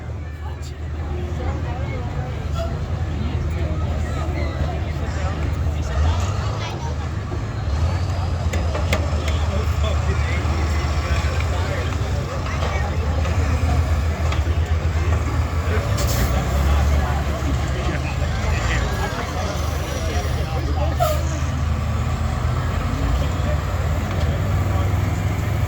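School buses slam into each other at a demolition derby at Buck Motorsports Park in 2024, with a steady roar of engines and crowd babble running throughout and occasional heavier bursts of impact noise.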